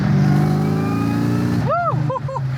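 A Terminator Cobra Mustang engine revs close up, a rising, rumbling harmonic drone that climbs in pitch and then drops off, followed by a few quick higher-pitched chirps at the end.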